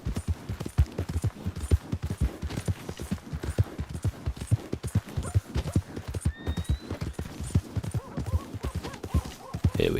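A horse's hooves clip-clop in a steady, brisk rhythm across ground in Red Dead Redemption 2, close and continuous, with a brief whinny partway through and no talking.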